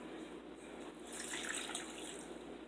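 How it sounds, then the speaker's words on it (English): Steady running water pours continuously into a pot at low volume, a soft splashing hiss with no voices. "pour a little bit of water into this."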